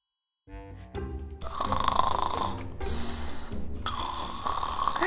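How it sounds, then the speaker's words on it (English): Loud, repeated snoring from a grandma character in a Roblox high school roleplay game, rough rasping breaths cycling several times in close succession with no talk over them. "you can't snore in here."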